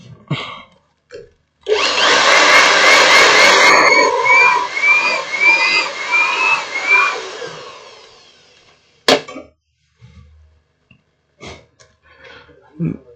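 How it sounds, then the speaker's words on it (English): A hot air blower used on electronics repair work roars on loudly for about six seconds with a whistling, warbling tone, then cuts off, followed by scattered clicks and handling noises. "Blower."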